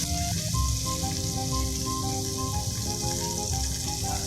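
Butter and olive oil sizzle in a pan for tuna pesto pasta, a steady hiss and crackle running continuously and close by, with a few faint tonal clinks and kitchen sounds over it.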